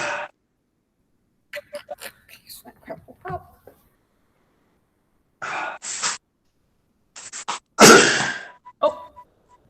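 A sneeze-like burst during a home yoga workout, one sharp loud blast standing out among scattered short coughs, clicks and speech fragments in an otherwise quiet room.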